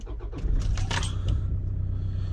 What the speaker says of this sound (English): Let's just start this vehicle up